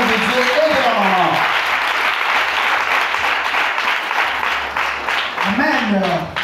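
A congregation at a Thursday testimony service applauds to acclaim God. The clapping is loud and steady throughout, with a musical tone swelling near the start and again near the end.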